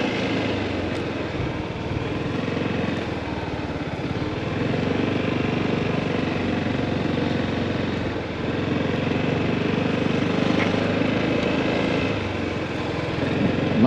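Motorcycle ridden slowly and turned by a learner, a steady close engine drone with slight swells in pitch as the throttle changes, continuous and fairly loud, with no talk.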